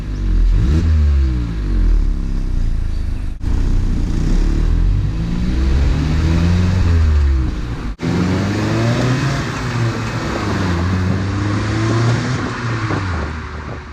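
A 2019 Mazda MX-5 RF with a louder exhaust revving repeatedly, rising and falling sweeps in a loud, close, continuous engine note with brief gear-change dips and no talking.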